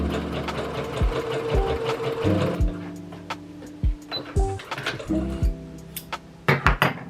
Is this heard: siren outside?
no